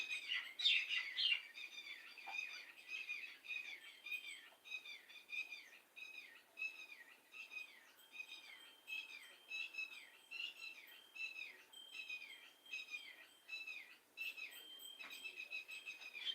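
A red-wattled lapwing calls over and over in a sharp, rhythmic series of shrill notes, steady and fairly close, with no talking.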